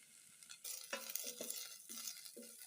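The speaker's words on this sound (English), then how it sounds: "cook your onions for 2 minutes until they start turning golden brown" Onions and cumin seeds frying in vegetable oil in a pot, heard as a steady close sizzle with stirring scrapes and clinks from about half a second on, loud and without talk.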